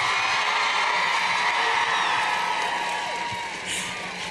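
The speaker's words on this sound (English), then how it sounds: "Can we give just a round of applause for just everything and right now the energy?" Crowd at an outdoor climate strike rally in Denver cheering and applauding, a steady dense wash of clapping and whoops that holds loud throughout and eases slightly near the end.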